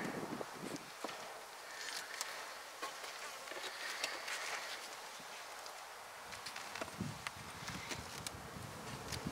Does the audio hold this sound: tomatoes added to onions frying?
no